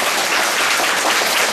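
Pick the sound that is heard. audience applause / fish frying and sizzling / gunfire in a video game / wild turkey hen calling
audience applause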